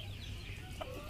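Soft chicken clucking, a few brief calls rising over a steady low hum of background noise.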